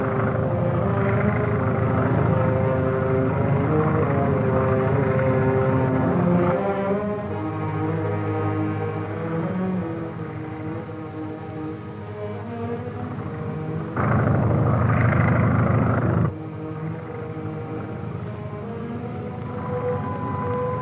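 A low, steady airplane engine drone overhead hums throughout, rich in layered tones, shifting slightly in pitch and swelling louder near the end.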